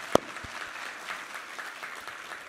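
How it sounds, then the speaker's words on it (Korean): Church congregation applauding during a Korean Sunday worship service, a soft, diffuse patter of clapping with one sharp louder clap near the start. "우리 하나님께 감사와 영광의 박수 올려드리겠습니다."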